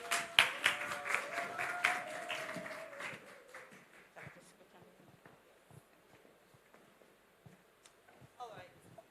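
Audience applause at a live event in Nigeria, a burst of clapping that fades within a few seconds, followed by sparse scattered claps and faint background noise.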